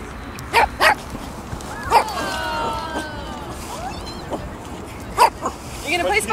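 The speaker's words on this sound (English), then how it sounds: "But this dog is very playful and Smedgy cannot play." Playful dog barking and yipping in short bursts, a few sharp close barks spaced apart with whimpers between, while people talk over the play at a Korean campsite.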